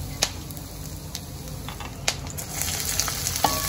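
Peanuts and curry leaves frying in a pan for upma, a continuous close sizzle with a few sharp pops and light stirring clicks, no voices.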